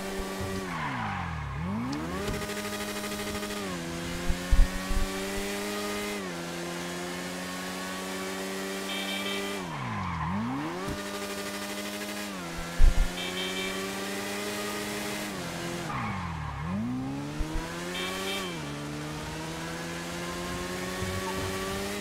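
An Okaje motorbike ridden in GTA 5, its engine revving up through the gears in three long sweeps, dropping and climbing again, with brief skid and tire noises along the way, loud and close.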